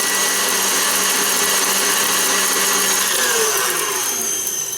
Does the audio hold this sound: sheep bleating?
no